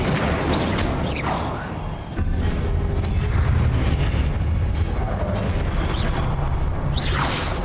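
Incendio fire spell cast in Hogwarts Legacy, a loud sustained roaring whoosh with booming bursts that swell and ebb across the whole stretch, thick and close throughout.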